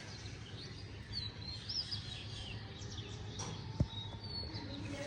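Birds calling outdoors around 6:30 in the morning near a balcony: faint, scattered chirps and short tweets over a soft, steady background hum.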